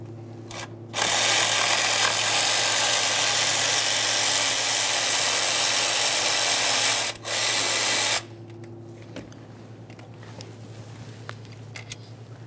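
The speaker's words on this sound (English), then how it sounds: "continue on to removing all three of our 8mm headed bolts that hold this in place" Ratchet spinning out the 8mm-head bolts of a thermostat housing on a 1998-2011 Ford Ranger 2.3L four-cylinder, one loud continuous whirring burst of about seven seconds with a brief break near the end, then quiet.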